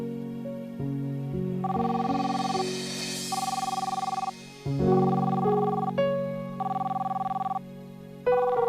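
A telephone rings in repeated electronic trills that come in regular bursts with short gaps, layered over a sustained musical drone, loud and close with no voices.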